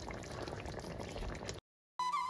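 Potato curry (aloo dum) simmers on low gas with a close, soft bubbling and gurgle that runs steadily, cuts out briefly, then returns with a faint tonal hum.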